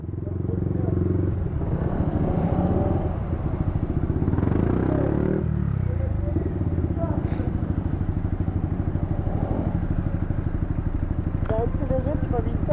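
A newly collected motorcycle's engine idles close by with a throbbing pulse, then swells into a rising rev before settling back, while people talk over it.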